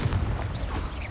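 Confringo fire spell explosion in the Hogwarts Legacy video game, a dense continuous blast of booming, crackling noise filling the whole moment at steady loudness, with no talk.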